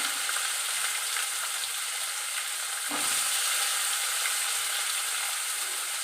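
Cut potatoes and onions fry in a pan with a steady, close sizzle that runs without a break, plus a brief scrape or stir partway through and no speech.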